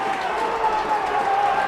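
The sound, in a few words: crowd cheering a successful rugby kick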